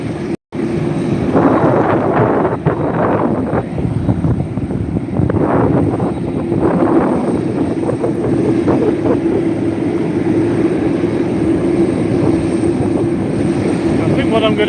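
An MD-11 jet departing Reno airport produces a loud, sustained engine roar that holds steady throughout, with an occasional faint voice beneath it.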